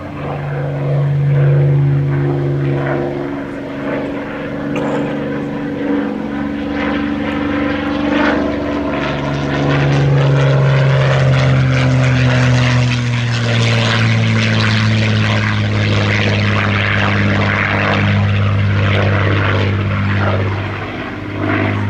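A Supermarine Spitfire LF Mk IXc's Merlin piston engine drones loudly as it flies past at an air show, its deep roar swelling and its pitch sliding downward, with no talking.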